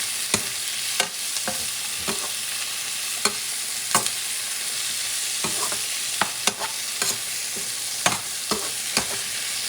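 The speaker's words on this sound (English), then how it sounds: "I want them to saute very well to soften" Vegetables sautéing in a hot pan for a tomato and scrambled egg stir-fry, a constant close sizzle broken by sharp intermittent taps and scrapes of a utensil, no voices.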